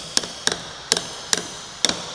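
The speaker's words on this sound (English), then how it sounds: "Let me tap it a little bit with the brass hammer" A brass hammer taps the back cover of a 6-volt generator. Five sharp metallic knocks come at uneven intervals, each followed by a short ring, close and clear with no talking.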